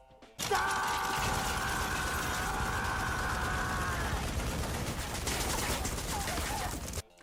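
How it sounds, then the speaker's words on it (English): A Gatling gun firing in the film Django, a long dense burst of rapid rattling shots with a sustained ringing tone over the first part, loud and continuous before cutting off abruptly. "somebody brings out the Gatling gun from Django"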